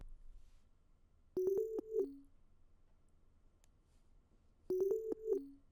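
Weird, ambient synth counter melody run through the Effectrix Drummer Lab 4 preset in an FL Studio beat, heard as two short chopped, stuttering bursts of tonal notes separated by a quiet stretch.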